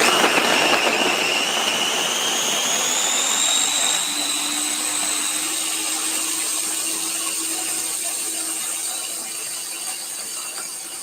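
A food processor blitzes a batch of pesto with a steady, loud whirring motor roar, holding near-constant for the whole stretch and easing slightly toward the end, with a high whine above and no talk.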